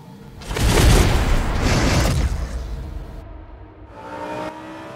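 A GT Cup race car lapping Oulton Park circuit roars loudly, its engine surging and revving hard, then easing, with a fresh burst of acceleration near the end.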